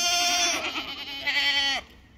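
Goats on a farm bleat loudly while nannies and kids are moved to greener pasture, two long wavering cries back to back close to the listener, then quiet.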